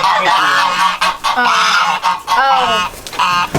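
Geese honk loudly in a rapid, overlapping alarm chorus, several birds calling close by in repeated bursts with brief gaps between them.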